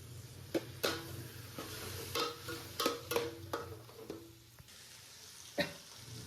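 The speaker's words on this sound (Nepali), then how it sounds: "अब यसलाई मजाले भुट्ने हो।" Meat frying in a pan in a kitchen in Saudi Arabia, with a soft sizzle throughout and intermittent clinks and scrapes of a utensil stirring.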